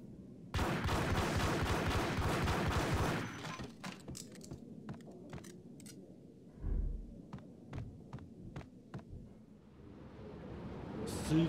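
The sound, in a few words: shotgun gunfire in a video game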